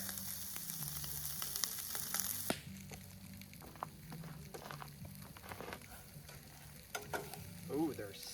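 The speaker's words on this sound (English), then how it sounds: "they're sizzling already." Food frying in a pan at a campsite, with a steady quiet sizzle and crackle, a few stirring scrapes and small clatters mixed in, and no voices.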